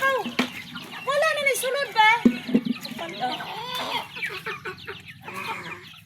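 Chickens cluck and squawk nearby in short, busy bursts while people talk over them.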